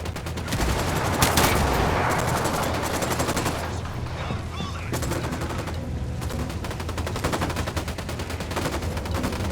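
Dense gunfire in Ghost Recon Wildlands, with rapid rifle and machine-gun bursts rattling almost nonstop through a loud firefight, plus a brief voice early on.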